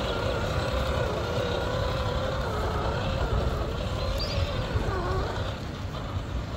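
An FMS FCX10 RC crawler truck's electric motor whines steadily as it climbs an obstacle, the pitch rising and dipping with throttle, close and moderately loud over a rumbling background.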